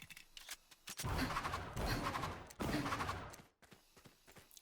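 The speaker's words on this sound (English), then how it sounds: "here's a view of a full mag of pistol at a long range" Pistol in the game Valorant emptying a full magazine at long range, a fast run of close, crisp shots in two bursts separated by a brief gap, fairly quiet overall.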